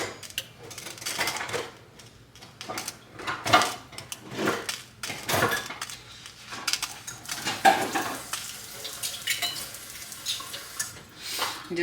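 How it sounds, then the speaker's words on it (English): Seasoned potatoes being tossed with salt in a home kitchen: a spoon scrapes and clatters irregularly against the bowl, with soft stirring and clinking, close and moderately loud, and no talking. "Mix them up real quick."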